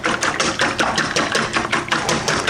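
Egg whites being whisked for homemade eggnog, a loud, fast rhythmic series of wire whisk strokes against a bowl, steady and close with no voices.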